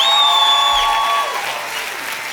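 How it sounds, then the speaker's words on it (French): An audience applauds loudly throughout the short stretch, a dense wash of clapping. Several sustained musical tones sound over it at the start and fade away. "Est-ce qu'on peut encore applaudir à faire exploser ce plafond?"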